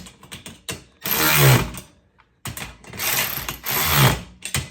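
A mini impact driver tightens a Milwaukee Packout bracket in two loud hammering bursts, each a second or more long, separated by a short pause and framed by lighter clicks and handling noises.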